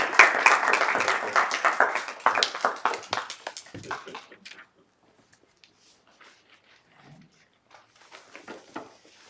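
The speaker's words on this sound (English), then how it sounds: "And now, round of applause." An audience gives a round of applause to welcome new members, loud dense clapping that thins out and fades to near silence, then a few scattered claps return near the end.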